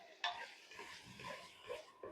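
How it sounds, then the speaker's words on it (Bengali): A utensil stirs softening tomatoes in a pan with fried prawns for a Bengali sour curry: faint, close scraping and light sizzling in a few short strokes, very quiet overall. "নেড়ে চেড়ে দিচ্ছি"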